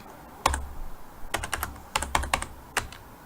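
Keys on a computer keyboard are typed in short irregular bursts of crisp clicks, separated by brief pauses, close and clear with no talk.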